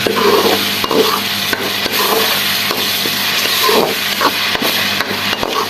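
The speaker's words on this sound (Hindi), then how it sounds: "ये पेस्ट ऐड कर देंगे और इसको अच्छे तरीके से भून लेंगे" Paste of four tomatoes frying and being stirred in a pan for kofta curry: a steady loud sizzle runs throughout, broken by sharp utensil knocks and scrapes against the pan.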